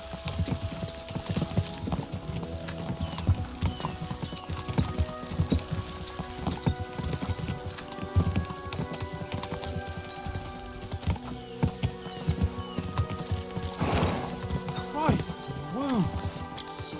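Horse hooves gallop steadily under ongoing talk in Kingdom Come: Deliverance II, with a horse whinnying briefly near the end, over a busy background of other sounds.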